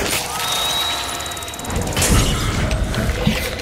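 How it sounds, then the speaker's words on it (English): A poison bomb goes off in Hunt: Showdown, with a thudding low boom and clattering mechanical rattles following a steady, hissy ambient stretch in the first half, loud and close. "Oh, the poison bomb."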